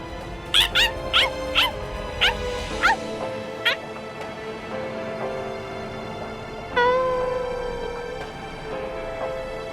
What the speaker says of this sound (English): Stupid, annoying dog.